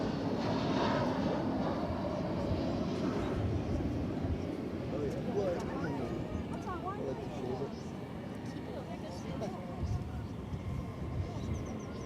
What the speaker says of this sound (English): A 20th century aircraft, if I've ever seen one.